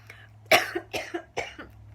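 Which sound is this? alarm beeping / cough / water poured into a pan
cough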